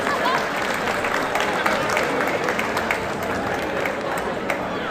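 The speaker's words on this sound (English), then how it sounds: "So give Joe a great round of applause." An audience at a fight event claps and cheers in a dense, sustained wash of applause, with voices mixed in under it.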